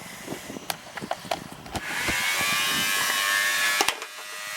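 A small electric pump draining a 40-gallon electric hot water heater runs with a steady whirring hum that starts partway through, amid clicks and knocks of handling.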